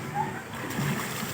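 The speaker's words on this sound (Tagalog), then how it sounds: "Naglalaro na ng tubig ng Magninang." People splash and play in pool water at a paid swimming spot, giving a continuous close sloshing and splattering wash of water with faint voices blended underneath.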